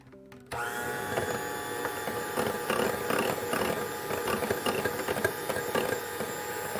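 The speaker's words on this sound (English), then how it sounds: "we're going to cream a half cup of butter." Electric hand mixer creaming half a cup of softened butter in a bowl for a Tootsie Dot cake, switching on abruptly into a steady, loud motorized whir with clattering, scraping beater noise against the bowl.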